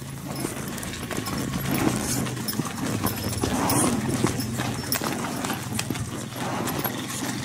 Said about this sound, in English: You're on the strongest horse.